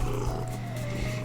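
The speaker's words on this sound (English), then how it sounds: "You could probably hear him purring." An old, loud domestic cat purrs close up, a continuous low rumbling throb with a faint pulsing rhythm, heard alone without talking.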